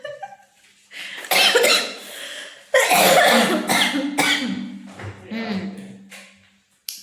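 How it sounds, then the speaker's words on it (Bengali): A person suffering from a bad cough hacks repeatedly indoors, delivering a series of loud, harsh bursts separated by short pauses, close to the microphone. "বেশি বেশি কাশি হচ্ছে, লাইভ করতে গেলে অসুবিধা হচ্ছে"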